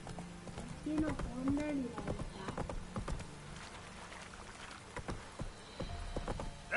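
Roach, a horse in The Witcher 3: Wild Hunt, gallops with rhythmic clip-clop hoofbeats through the scene while people talk over the top and faint patter fills the background.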